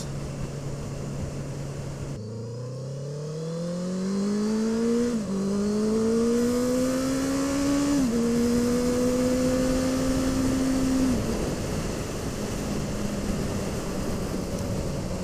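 A smooth motorbike engine revving up through the gears while riding, pitch climbing in steps with short dips at each shift, steady wind and road noise underneath, no one talking.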